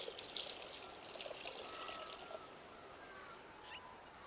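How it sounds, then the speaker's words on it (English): Water is poured over leaves and wattle bark in a terracotta pot, a soft, faint trickling wash lasting about two seconds before easing into a quieter drip and hiss. "Just going to put the leaves in this terracotta pot and the wattle bark, and I'm going to put some water in over the top of the leaves."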